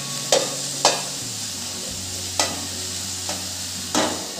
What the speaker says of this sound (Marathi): तुपात मी आता बीट टाकून घेते आहे। बीट थोडे परतवून घेऊ आपण।